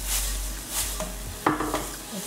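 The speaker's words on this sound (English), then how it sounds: "I'm going to stir fry it really quick so that it gets evenly cooked." Shrimp vegetable lo mein is stir-fried in a wok, giving a soft sizzle under a few quick, close clanks and scrapes of the utensil against the pan, with no talking.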